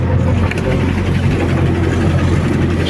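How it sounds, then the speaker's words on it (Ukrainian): Tractor engine running steadily while driving through a field of corn and sunflower crops, a loud continuous low rumble with voices talking over it. "Давно я не їздив на тракторі."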